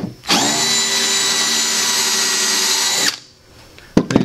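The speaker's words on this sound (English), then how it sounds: "You definitely want to countersink" A power drill countersinks holes for an upholstery panel of an L seat base, one loud close whine held steady for about three seconds, then a stop and a few clicks.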